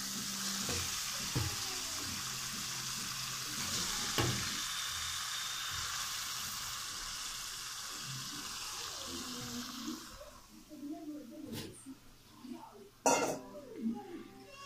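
Pieces of fish head frying in oil over cooked spice masala, a steady hiss and sizzle with scattered clinks of a spoon against the pan, then quieter stirring and scraping near the end.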